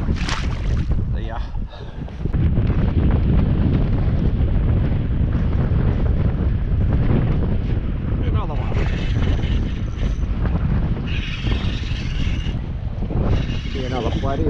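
Strong wind gusts buffet the microphone on a boat on Lake Macquarie in winter, a loud, continuous rushing roar, with a voice talking over it at times.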